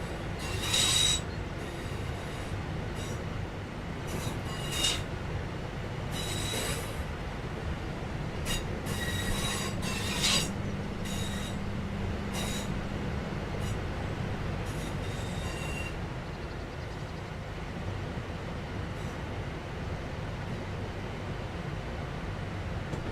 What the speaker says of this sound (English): Now that you've moved down the track, it's time to bring the train to a stop.